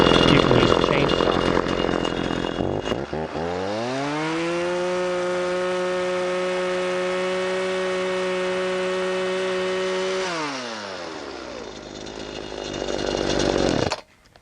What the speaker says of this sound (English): And with the proper safety equipment, you can use a chainsaw.